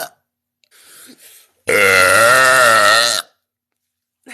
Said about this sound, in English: I feel one coming.